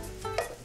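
Rehydrated shrimp stir-fry in a hot pan with garlic and ginger for taro cake, giving a short, steady sizzle with a light scrape of stirring near the end.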